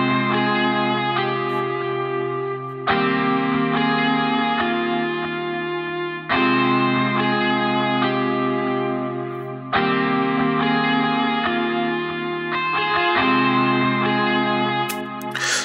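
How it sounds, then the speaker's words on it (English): An Omnisphere PRS Lee Guitar A patch plays sustained chords with heavy effects, distortion and echo, in about four long phrases that restart every few seconds, with no voices over it. "And that is in Omnisphere, that is the PRS Lee Guitar A."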